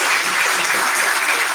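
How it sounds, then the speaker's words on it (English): A brief burst of dense, loud applause with a steady, full sound and no break. "I hear the applause."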